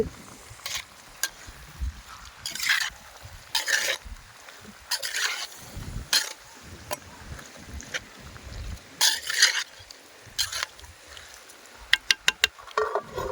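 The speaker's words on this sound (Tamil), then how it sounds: "இடித்து வச்சுருக்க இஞ்சையும் கொஞ்சம் போட்டுக்கலாம் போட்டுட்டு நல்லா கிளறி விட்டுட்டு" Chicken and rice being stirred with crushed ginger in a clay pot, producing intermittent close scraping and clattering strokes in irregular bursts with quieter pauses between.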